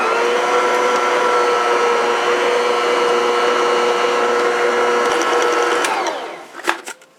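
Electric hand mixer whirring steadily through triple chocolate banana bread batter with cocoa powder and baking soda, loud and close, then winding down with a few clatters of the beaters against the bowl.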